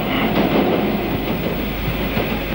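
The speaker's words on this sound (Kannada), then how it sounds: "ಟ್ರೈನ್ ಬಂತು" A train rolls in, a loud continuous rumble with rhythmic wheel clatter, close by and with no voices.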